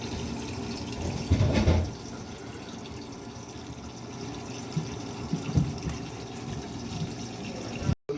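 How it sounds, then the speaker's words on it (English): Water from a shower runs upstairs in a house with a bathroom under renovation, a faint, steady muffled hiss with a brief louder splash early on and a few soft knocks. "you can see we got the water running upstairs. I went up to the shower."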